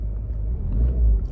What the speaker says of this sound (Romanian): Motorul se turează bine, se aude bine.